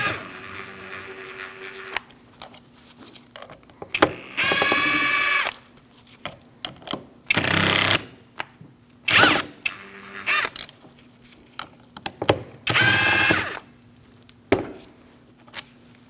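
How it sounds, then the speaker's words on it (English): A power driver with a T20 bit backs screws out of a 2000-2006 Mini Cooper front window regulator, several short loud whirring bursts separated by quiet gaps and light handling noises. "I'm using a T20 to remove these screws."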